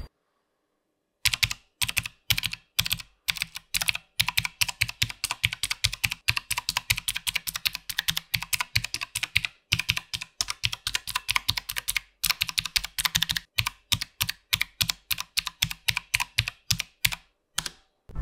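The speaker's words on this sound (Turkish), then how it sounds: "klavyenin de tuşlarına bastığınızda çıkan sesi de buradan görmüş oldunuz" Typing on a Rampage RGB mechanical keyboard with blue switches, heard as a fast, steady stream of close, crisp, clicky clacks with a few brief pauses and no talking.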